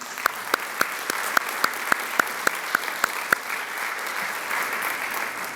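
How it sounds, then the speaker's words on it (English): Sparse clapping from a small audience at a celebration-of-life memorial, a dozen or so distinct sharp claps in an uneven rhythm at first, then thinning into a softer, blurred patter at moderate distance. "Can we give all those people a round of applause, please?"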